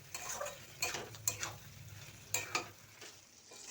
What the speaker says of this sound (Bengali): মাংসটা দিয়ে দিলাম, নাড়বো, কিছুক্ষণ নাড়তে থাকবো,